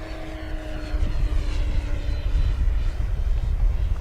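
A Flightline 1600mm Corsair RC model airplane on a 6S lipo flies past with a steady, droning propeller and motor whine that swells and holds close by, with no talk.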